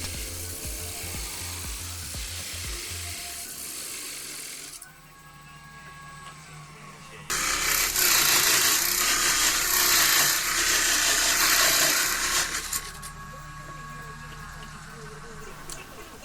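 A wood lathe tool cuts in passes through a plywood false base plate to part a turned bowl free, giving a steady whirring, scraping grind that swells louder and rougher for several seconds in the middle before easing off.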